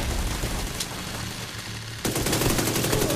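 Sustained automatic turret gunfire in The Division 2 video game, a dense continuous rattle that intensifies partway through, loud and without talk.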